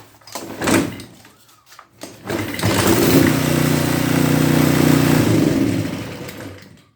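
A pressure washer's small engine coughs and catches after a few rough pulls, then settles into a loud, steady running drone for several seconds before easing off, with no talk.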